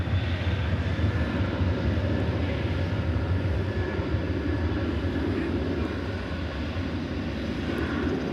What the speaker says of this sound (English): And I believe this to be an American Airlines flight to Pittsburgh, Pennsylvania. 737-800.